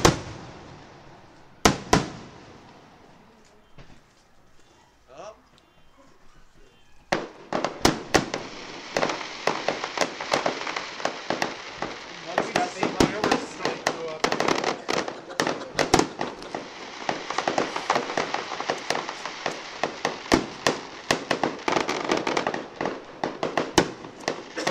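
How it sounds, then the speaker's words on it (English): Fireworks at a Dodgers baseball game explode in a dense, continuous barrage: a couple of loud isolated bangs, a brief lull, then a long crackling, booming volley of overlapping blasts with faint crowd voices underneath. "This is the longest fireworks I've ever seen"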